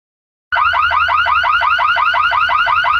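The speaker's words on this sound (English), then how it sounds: "His car alarm went off." A car alarm bursts on after half a second of silence and wails continuously in fast, repeating electronic chirps, loud and close, with nothing else heard.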